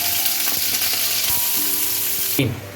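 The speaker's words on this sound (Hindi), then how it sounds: "जब ऑयल गर्म हो जाए तो इसमें 2 मीडियम प्याज कटे हुए वो ऐड कर दें और प्याज को फ्राई कर लें" Two medium chopped onions frying in hot oil for beef pulao, a loud continuous close sizzle with occasional stirring scrapes, easing off slightly at the end.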